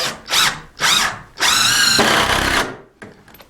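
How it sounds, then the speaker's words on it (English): A power drill drives a screw through the shims of an exterior door frame in several short whirring bursts, then one longer run, loud and close, with no talking. "just peel it back and just put a screw right here"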